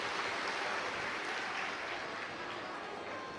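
Audience at a Shiv Mahapuran religious discourse applauding to welcome the host families, a soft, steady wash of clapping heard at a distance.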